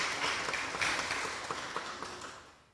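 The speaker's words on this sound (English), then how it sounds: "Let's clap for everyone who's visiting us." A church congregation claps for visitors at a Sunday service, a short burst of scattered, moderately distant applause that thins and fades away within a few seconds.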